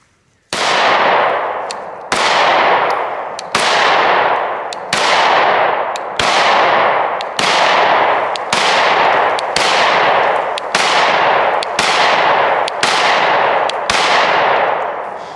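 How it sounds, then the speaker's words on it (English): A Canik MC9 pistol fires about eleven loud, sharp shots at a steady pace with no other sound between them, each crack decaying quickly as a spent round is ejected. "them rounds were ejecting out perfect, just the same spot every time"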